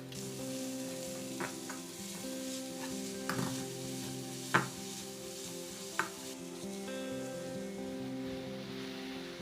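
Chopped onions and green chillies sizzle steadily in a hot pan for ginger curry, a continuous frying hiss with a few sharp clicks of a stirring spoon scattered through, close and alone.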